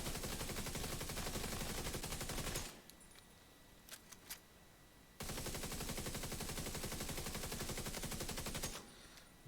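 Two long, sustained bursts of rapid automatic fire from a player's weapon in a shooter game, loud and relentless, separated by a few seconds of quieter gaps with a couple of faint clicks.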